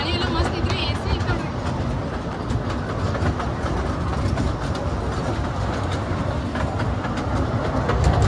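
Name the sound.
Haripriya Express train running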